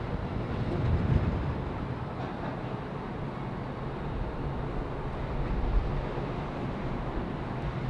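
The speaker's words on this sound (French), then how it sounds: "Et t'as pas l'impression qu'il y a beaucoup de vent là" Strong wind buffets the microphone at a high viewpoint in Tokyo, a constant low roaring rumble with heavier gusts near the start and no speech.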